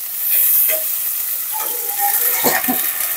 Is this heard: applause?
no